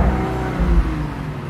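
Audi Q3 engine revving through its original, unmodified exhaust, a close, steady low rumble with a mild swell in revs partway through, alone without talk.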